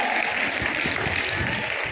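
Students clap together at a 75th Republic Day celebration at St. Ann's centenary English medium school, a dense, continuous wash of applause from a crowd with faint voices mixed in.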